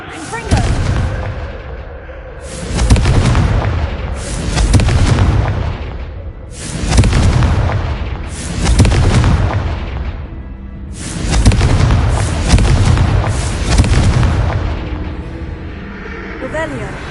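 Repeated Confringo fire-blast spells in Hogwarts Legacy, loud booming explosions in roughly six heavy bursts, each rumbling and decaying over a second or two, one after another with short gaps.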